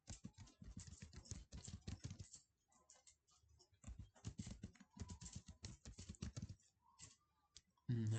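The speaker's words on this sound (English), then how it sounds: "Type password." Fingers typing a password on a computer keyboard during Windows Server user setup, a quiet, rapid patter of key taps in bursts with a short pause midway, close and faint.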